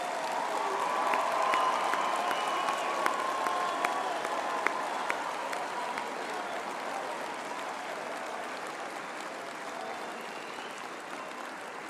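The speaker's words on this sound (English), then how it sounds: "let us give our graduates a big hand for their hard work and perseverance" A graduation ceremony audience of the Faculty of Economic and Management Sciences applauds its graduates, producing a steady, dense wash of clapping with a few scattered whistles and cheers that holds evenly throughout.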